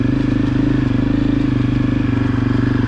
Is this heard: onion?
no